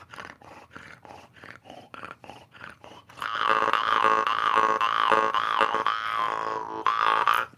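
A twanging jaw harp plays a string of short rhythmic pulses, then shifts into a sustained, buzzing, growl-like drone that holds loudly to the end.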